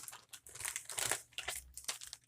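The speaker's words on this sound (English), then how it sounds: "Sorry about the crinkling." A Rainbow Gallery embroidery thread package crinkles close to the microphone, with continuous rustling and crackling in uneven bursts, fairly loud and with no talk over it.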